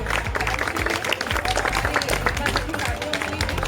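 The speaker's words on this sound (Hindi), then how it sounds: "तो इसके लिए जोरदार तालियां आपको" Applause for an LIC insurance branch team at a Republic Day gathering, steady dense clapping from a group with voices mixed in throughout.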